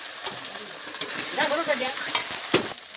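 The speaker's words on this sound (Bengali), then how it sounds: "আদা রসুন লঙ্কার পেস্টটা দিয়ে আমি একটু কষিয়ে নিয়েছি" Ginger, garlic and chili paste with spices sautéing in a pan for chicken kosha, a close continuous sizzle broken by several scraping stirs of a spatula, with a brief murmur of voice partway through.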